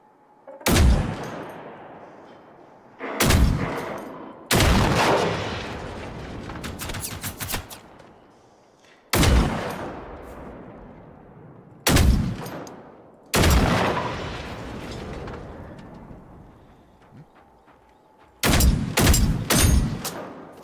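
A scoped gun in the Generation Zero video game fires in loud, sharp bursts of several rapid shots each, with echoing tails and brief quiet gaps between volleys.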